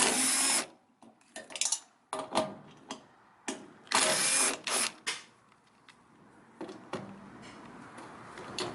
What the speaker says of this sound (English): remove the 4 screws